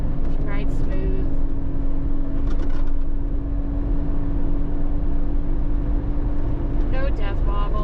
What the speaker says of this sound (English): So cruising up this road just over 60. You can see the Jeep handles well.